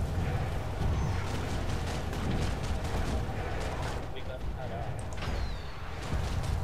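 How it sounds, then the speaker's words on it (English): Gunfire in the video game PlanetSide 2 rattles as a dense, continuous barrage of shots and rumble at moderate level, with voices talking over the combat. "Why is he shooting at our teammate?"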